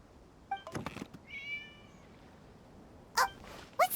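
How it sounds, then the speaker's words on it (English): A cat meows in the Genshin Impact video game, with a few short, distinct meows near the start and two more near the end, separated by a quiet background. "It was just a cat."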